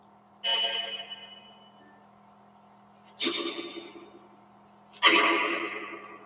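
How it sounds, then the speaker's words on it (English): A phone plays a soft, gentle chime-like bedtime lullaby alarm in three separated bursts, each ringing out and fading, quiet and close with no talking. "my phone will play that little lullaby when it's bedtime"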